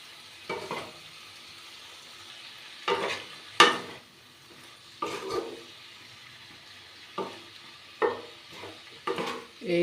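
Ivy gourd (kundri) is stir-fried in a pan, with a low constant sizzle broken by repeated scraping stirs that come in short bursts every second or two.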